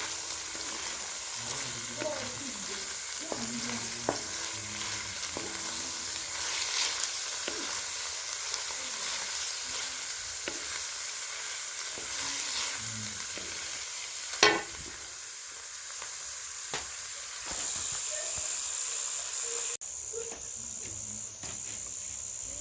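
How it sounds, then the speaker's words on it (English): Onions sizzle faintly in a pot over medium heat at an outdoor village cooking fire while being stirred, with occasional scraping knocks against a soft steady crackle and insects chirping in the background. "So we keep on stirring our onions so that can cook well."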